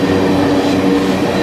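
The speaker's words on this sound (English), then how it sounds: "This godforsaken train is finally going a little faster." Freight train rolling on rails between New Orleans and Houston, a steady, close rumble of wagons with faint clickety-clack and a droning hum, picking up speed with no talk.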